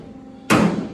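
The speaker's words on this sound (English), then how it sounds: "hammer" A hammer strikes the metal bed of a Chevrolet C10 shortbed once, on a welded original bedside being flattened. The blow is sharp and loud, followed by a ringing metallic decay.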